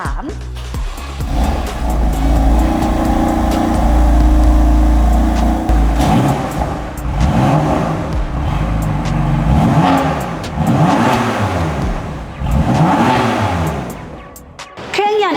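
A BMW M3 F80 with its 3.0-litre S55 twin-turbo engine and dual-clutch gearbox, revving through an aftermarket exhaust: a deep idle rises into several sharp, loud revs close by, each blip dropping back before the next.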